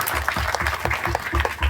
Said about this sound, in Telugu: మన అమ్మలు అందరికి చప్పట్లు కొట్టండి.